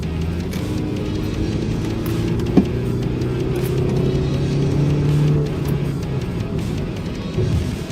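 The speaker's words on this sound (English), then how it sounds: "I feel like if I do that again, it will explode the engine." Subaru 2.5 engine revving hard in a steady, loud drone that holds and swells over several seconds, with no talk over it.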